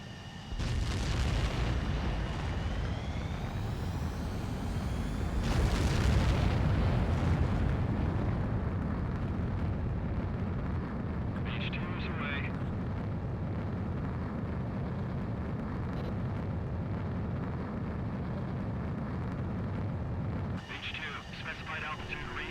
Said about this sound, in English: begin takeoff sequence. You're cleared for launch.